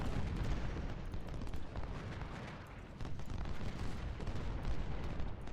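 Artillery fire in Ultimate General: Civil War rolls on continuously, a dense, rumbling wash of distant booms and crackling gunfire with no clear single shots standing out, no voices present.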